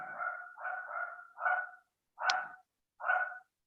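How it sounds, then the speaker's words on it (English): A dog barks five times from some distance outdoors, in an uneven run of rough, mid-pitched barks, with no other sound between them. "Somebody's got a dog back there."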